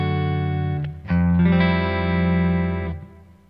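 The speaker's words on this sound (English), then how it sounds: "To embellish the Koch Powertone, I added some healthy dose of reverb." Electric guitar played through a Kemper Profiler set to a Koch Powertone amp profile with a generous reverb, a sustained overdriven chord struck twice and ringing out alone with a spacious tail.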